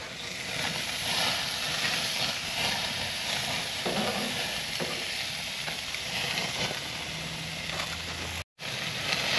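Meat frying in a hot pan over a strong flame, giving a loud, steady sizzle and crackle that carries on throughout with a brief dropout near the end.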